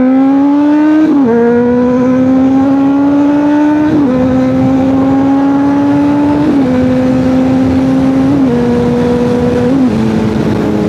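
A Honda CBR600RR sport bike with an aftermarket exhaust and no catalytic converter accelerates hard through several gears, each rising engine whine cut by a quick shift, loud and close, with no voices.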